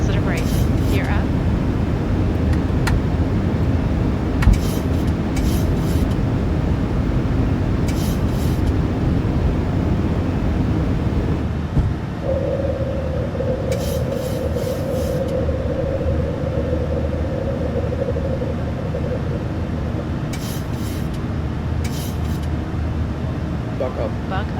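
A Ryanair airliner roars down the runway and climbs away during takeoff in Microsoft Flight Simulator 2024, a steady loud jet rumble with a sustained whining tone that rises partway through.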